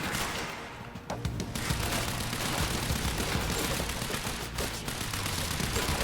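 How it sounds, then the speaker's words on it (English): Heavy machine gun fire from the video game Quantum Break comes as a dense, continuous rattle of rapid shots mixed with rumbling impacts, loud and sustained throughout. "That has to be like a heavy machine gun he's working with."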